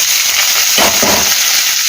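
Loud, continuous sizzling of green chillies and onions frying in hot oil, with a brief burst of heavier crackling in the middle; no voices.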